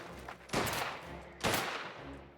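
Two sharp bursts of gunfire from the video game Mafia: The Old Country, close and loud, spaced about a second apart with a noisy ringing tail after each volley.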